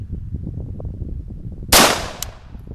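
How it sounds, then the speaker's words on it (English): A single loud, close gunshot from a Cobray M11 pistol with one round in the magazine, a sharp crack with a short ringing decay and a faint metallic clink just after, over low background murmur. "here's the test fire."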